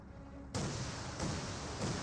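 Land mattress rocket artillery slams down in a Company of Heroes 2 barrage, three heavy impacts arriving in quick succession, loud and booming.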